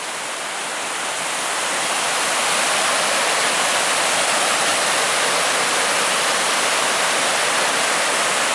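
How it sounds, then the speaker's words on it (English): Waterfall on Kearsarge Pass, a steady full roar of rushing water that swells slightly in the first seconds and then holds constant and loud, with no voices. "Oh yeah, real good flow there. You can hear the waterfall."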